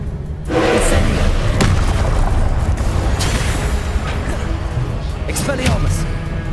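Incendio fire spell cast in Hogwarts Legacy, a sudden loud roaring whoosh that bursts in and holds as a dense, sustained rumble of flame and impacts, with faint voices mixed underneath.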